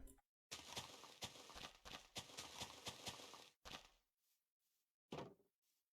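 Hooves of a horse in Minecraft clopping in a quick run of sharp, close thuds that stop abruptly, followed by a few scattered softer knocks and one last short burst.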